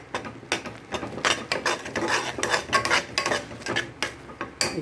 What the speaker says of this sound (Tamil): நான் கரண்டியாகவே இன்றைக்கி எடுத்துக்கிட்டேன் அழகாக அப்படியே கிண்டி விட்டுடுவோம்